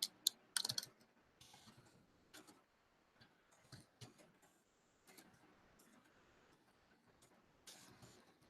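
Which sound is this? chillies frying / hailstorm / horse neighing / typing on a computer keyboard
typing on a computer keyboard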